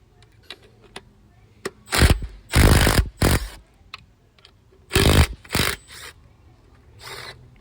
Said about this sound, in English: And I start removing the intake manifold bolts.